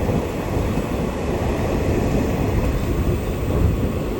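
Unreserved passenger train 57302 from Medak to Kachiguda rumbles along at speed, a dense continuous roar of wheels and carriages heard from inside, steady and loud throughout.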